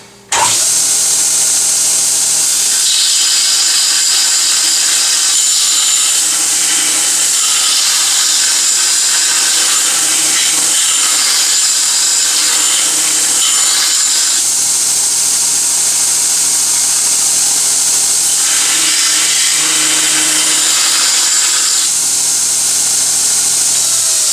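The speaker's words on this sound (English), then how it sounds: "I want to flatten it out, so I'm just going to use the belt grinder" Belt grinder flattening and deburring a metal tension control rod mount, giving a loud, steady abrasive hiss and whine that swells in two long passes of grinding contact, close and continuous.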